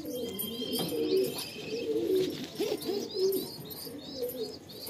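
Madrasi pigeons in a full loft give a steady chorus of soft, repeated cooing, with a few higher chirps scattered over it, close and fairly loud throughout.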